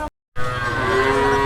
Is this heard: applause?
no